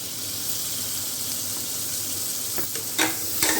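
Tomato paste and chopped tomatoes with green chillies fry in a pan, a steady broad sizzle heard close, with a few clinks and stirring noises near the end.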